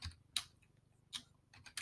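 Keys clatter on a computer keyboard in several short quick bursts separated by pauses, close and fairly quiet, with no voices.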